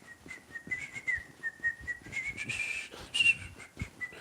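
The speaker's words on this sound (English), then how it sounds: "I wish I could do that whistle." Someone whistles in a bright, wavering tone at an outdoor July 4th Independence Day gathering, short phrases and a few sharper bursts over faint crowd murmur.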